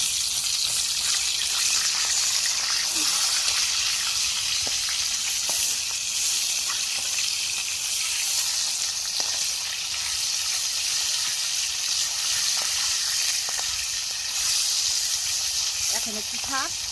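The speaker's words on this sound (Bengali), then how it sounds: "এখন আমি মাছটাকে উল্টিয়ে দেবো।" Boal fish fries in hot oil in a pan, a loud, continuous close-up sizzle and hiss throughout, with a few faint bumps.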